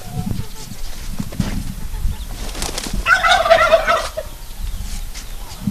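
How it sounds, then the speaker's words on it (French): A turkey about eight months old gobbles in a burst of rapid rattling calls. It is fairly close, against a noisy outdoor background with some voices on a farm. "Bon, voilà ce dindon là."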